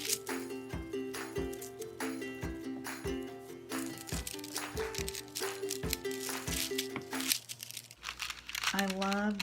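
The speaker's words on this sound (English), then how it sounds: "I love the texture of glassine paper, and of course I love the sound" Glassine paper being handled for a junk journal, giving a loud, bright, crackling crinkle in rapid rhythmic bursts close to the ear. Steady musical tones run beneath it, and a softer rustle follows near the end.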